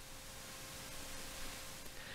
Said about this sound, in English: this noise control here, which just kind of adds tape hiss